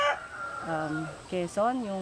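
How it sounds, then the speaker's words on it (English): Native chickens at an agricultural research station in Sual, Pangasinan give harmonic clucks and crow-like calls, loud and close, while a person speaks in the background. "we classify it as local native chicken"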